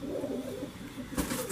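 Pigeon cooing softly in a breeder's loft, low repeated coos throughout, followed by a brief rustle of wings or feathers near the end, fairly close and without talking.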